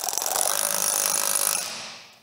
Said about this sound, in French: un petit coup de clé à choc sur le...